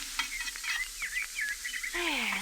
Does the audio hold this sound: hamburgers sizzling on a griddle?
yes